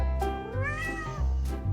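A house cat meows three times in a row, close and clear, each call rising and falling in a short whiny tone.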